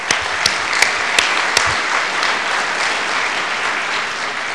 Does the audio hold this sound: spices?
no